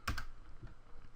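Keys clatter on a computer keyboard: two sharp close clicks, then a few softer taps, with no talking.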